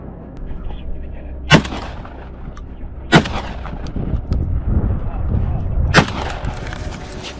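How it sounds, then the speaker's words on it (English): Three sharp gunshots fired at a wild boar during a herd hunt, spaced a few seconds apart, loud and close over a rumbling, busy outdoor background. "fired a surprise shot directly at the target"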